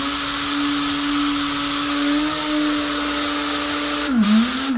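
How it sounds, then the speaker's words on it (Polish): A vacuum cleaner runs steadily with a loud broadband whine and a constant motor hum, its pitch dipping briefly near the end. "biorę odkurzacz i będzie głośno"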